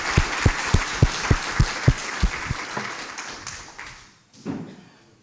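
Audience applause at a JuliaCon 2023 conference session, a crowd clapping in a room for about four seconds with strong individual claps up front, then thinning out and fading.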